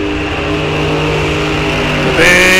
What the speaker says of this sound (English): Big smoke and burnouts out of these guys